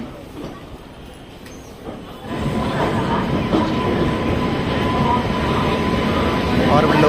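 Amrit Bharat Express train pulling out of the station, rumbling and clattering that rises sharply after a quieter opening and then holds as a steady loud roll, with voices talking over it.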